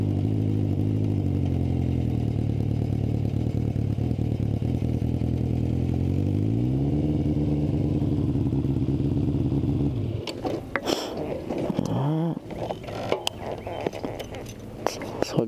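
A gunmetal gray motorcycle's engine drones steadily and shifts pitch upward partway through, then gives way to gusty wind buffeting and intermittent clatter as it rides along.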